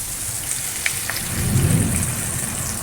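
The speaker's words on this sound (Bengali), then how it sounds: "কি মেঘ ডাকছে বাপরে" Thunder rumbling during a rainstorm: a low, muffled rumble swells and fades over a steady background hiss of falling rain, with no voices.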